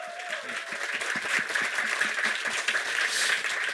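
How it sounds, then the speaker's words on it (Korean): Applause from a talk show studio audience, steady dense clapping that fills the whole stretch, with a brief voice at the very start. "박수 한번 부탁드리겠습니다."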